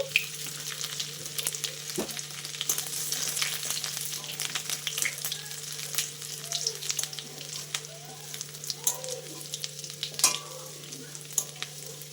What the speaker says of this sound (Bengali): ওই তেলেই দেখো আমি একটু রসুন কুচি দিয়ে দিচ্ছি, আদা কুচানো দিয়ে দিচ্ছি